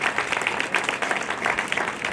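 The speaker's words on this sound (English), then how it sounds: "Let's give her a round of applause for one of our women veterans." An audience applauds a woman veteran at an equestrian center event, with steady, dense clapping from a crowd that continues evenly throughout.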